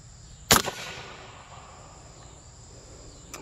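A single sharp 300 Blackout rifle shot fired with a Hornady round at a target outdoors, one loud crack with a short decaying echo, then quiet background hiss and insects.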